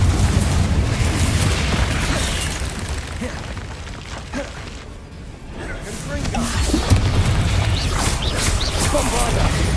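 Bombarda and Confringo spells explode in the Hogwarts Legacy game, a dense wash of booming blasts and rumbling debris with mechanical creaks throughout, dipping briefly before swelling again, under a talking voice.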